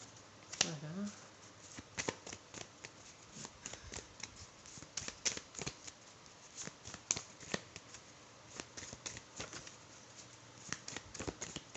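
Tarot cards are shuffled close by for a reading, giving repeated crisp riffling and flicking bursts in an uneven rhythm, with a voice talking in between.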